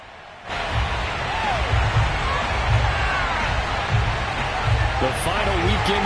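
A stadium crowd at FedEx Field roars in the Madden football video game, a broad continuous cheer under a commentator's voice, with thumps rising through it.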